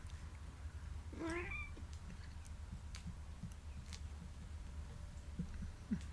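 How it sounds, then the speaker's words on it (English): A house cat gives a single short meow in a quiet indoor room over a low steady background hum, with a few faint clicks and soft knocks scattered around it. "Well, here's my kitty."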